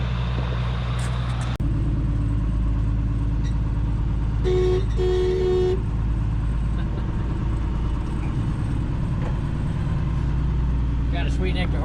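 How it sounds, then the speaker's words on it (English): An old hay truck's horn gives a couple of short, bright honks partway through, over the steady rumble of the idling engine that runs for the whole stretch. "Got a sweet nectar horn on this thing."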